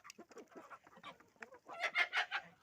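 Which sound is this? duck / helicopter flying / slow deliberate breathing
duck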